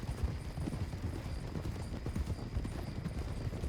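Horse hooves clip-clopping steadily in the Western game Red Dead Redemption 2, a continuous busy patter of hoofbeats at moderate level with a faint voice briefly in the background.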